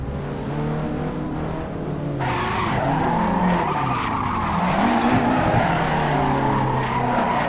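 Tires squeal continuously as an S13 drifts in Assetto Corsa during a tandem run on the Bihoku track, a loud, sustained wavering screech over a revving engine in second gear, with no talking.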